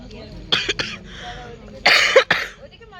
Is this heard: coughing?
yes